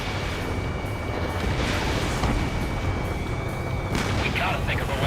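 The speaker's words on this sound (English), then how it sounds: "Missile away." A missile launched from a fighter jet in the air-combat game Ace Combat 7, a steady dense rumble with low booms and a whoosh near the end, loud and continuous throughout.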